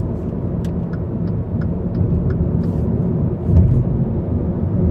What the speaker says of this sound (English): I'm gonna be basically showing the downshift and upshift of this car